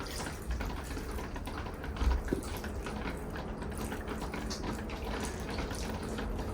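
A gentle, steady trickle of water is poured onto the center of a potted plant's root ball in an aphid treatment, a soft continuous pour with a faint thump partway through.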